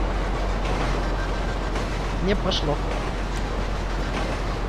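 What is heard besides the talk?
train passing in GTA Online, video game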